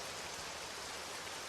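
Rain in a video game, a steady dense patter of drops falling on a surface, unbroken and faint with no other sounds.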